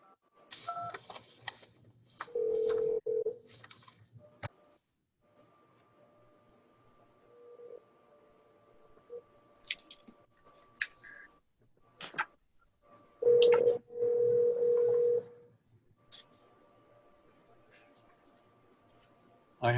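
Touch-tone telephone dialing while joining a virtual zoning board meeting: a series of short DTMF beeps in irregular bursts, with a faint steady tone and scattered clicks between them.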